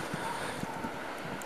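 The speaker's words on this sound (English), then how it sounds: "It's just windy." Strong wind during a snow storm roars steadily as a broad rushing noise buffeting the microphone, continuous throughout the short stretch.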